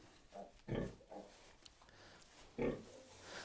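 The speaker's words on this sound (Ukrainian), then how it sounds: "Бачите, є такі невеличкі, маленькі поросятка" Piglets and a sow on a farm grunt and oink in several short, uneven bursts, fairly faint and close-by, with a stronger grunt near the start and another near the end.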